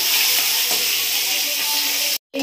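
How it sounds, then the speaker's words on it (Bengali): An egg mixed with salt and turmeric fries in a wok with a loud, even, close sizzling hiss that cuts out abruptly for a moment near the end. "এবার দিয়ে দেব নুন হলুদ মাখিয়ে রাখা ডিমটা, দিয়ে আমি নেড়ে চেড়ে ডিমটা ভালো করে ভেজে নেব"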